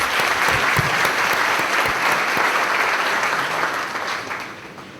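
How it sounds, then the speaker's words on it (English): Loud, sustained applause from an audience at an entertainment event honoring local realtors, many hands clapping in a dense, continuous roar that stays strong before tapering off slightly near the end. "Let's give these three a round of applause."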